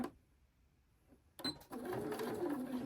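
A sewing machine runs a back stitch on a fabric Christmas tree skirt, starting with a quick clunk and then whirring steadily and close after near silence.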